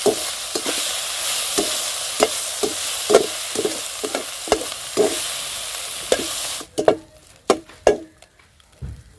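Shark fish puttu being stirred in a pan, a steady frying sizzle with a dozen regular scraping strokes of the spoon, then the sizzle drops away leaving a few louder, sharper scrapes near the end.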